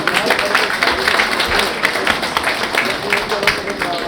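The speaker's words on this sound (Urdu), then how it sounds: "آپ کی بھرپور تالیوں میں درخواست کروں گا محترم جناب امجد صاحب سے" An audience at a charity mushaira poetry gathering in New York gives continuous, dense applause welcoming a poet, loud and close throughout, with someone speaking over the clapping.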